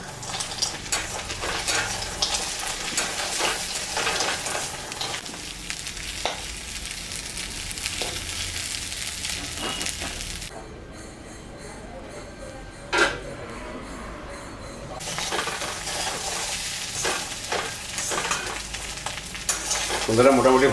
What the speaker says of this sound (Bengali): বন্ধুরা এবার সয়াবিনটা আমি একটু ভেজে নেব।